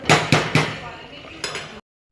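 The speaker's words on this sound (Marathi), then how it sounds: "मी ह्याला एकदा हलवून घेते असं पूर्ण" A spoon knocks against a cooking pot while masala rice is stirred: three quick, sharp metallic clinks close together at the start, then one more clink after a short pause, all close and fairly loud.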